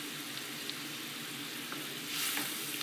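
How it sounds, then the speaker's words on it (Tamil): Steady sizzling and scraping in a pan as semolina for coriander upma is stirred, with soft intermittent clinks, a bit louder near the end. "இப்போ ரவையை போட்டு கிண்டி வேண்டியது."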